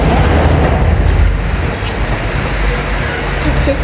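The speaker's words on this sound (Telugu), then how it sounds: "ఈ కారు ఇప్పుడు వెళ్తున్నాను" Loud, close engine rumble of a car driving out of an underground cellar garage, a steady low roar filling the enclosed space for a few seconds.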